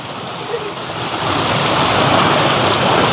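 Water flows steadily into a hillside pond in a rural mountain setting, a broad continuous rushing that swells slightly louder partway through, close and without talk.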